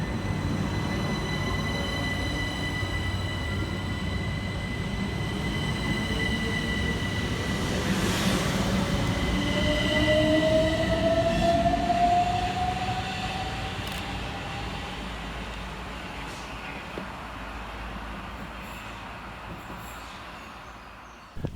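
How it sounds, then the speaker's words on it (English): Southern Class 377 electric train departing Coulsdon South station, a steady rumbling roll with rising motor whine and faint wheel squeal, fairly distant and fading gradually toward the end. "we see the departure of 377-425, working the 1106 Southern service from London Victoria through to Reigate"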